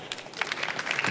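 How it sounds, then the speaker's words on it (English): A conference audience applauds an innovator at a pitch session at an ocean energy event in Amsterdam. Steady, dense clapping from a crowd fills the short moment, with no talking. "René of Neptune, give him an applause."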